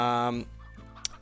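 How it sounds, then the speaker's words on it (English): Chickens cluck in the video game Slime Rancher, a few short clucks heard faintly after a man's brief spoken word, low in level behind the game audio. "Man, we got chickens everywhere."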